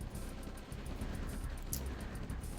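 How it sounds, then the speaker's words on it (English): A dense wall of sustained automatic gunfire from massed units in the real-time strategy game Red Alert, a continuous rattling roar with constant low rumble and no clear gaps, loud and close with no talk over it. "A wall of gunfire."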